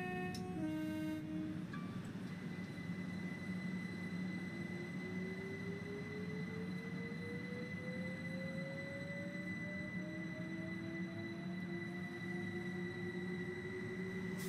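Electrostar electric multiple unit from Train Sim World 2, its traction motor giving a faint, steady whine that climbs slowly in pitch as the train accelerates, over low rolling rumble with a brief tone sequence at the start.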